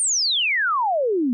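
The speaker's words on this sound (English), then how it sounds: "Yeah, that sounds a lot like a kick drum." A synthesized kick drum built in Renoise sounds as one clean tone sliding smoothly from high to low over about a second, long and drawn out, with no click or noise around it.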